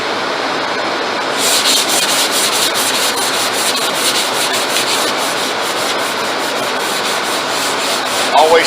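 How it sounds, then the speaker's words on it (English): Hand sanding a sprayed wood finish with 320 grit sandpaper, a steady close scratchy rubbing that starts after a brief quieter moment and continues evenly in long rhythmic strokes, with no talking. "We're sanding with 320 grit paper."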